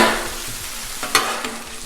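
Ground beef sizzles and fries on a Blackstone griddle while a spatula scrapes and chops, steady loud hiss broken by a couple of sharp metal clinks, close up with no talk.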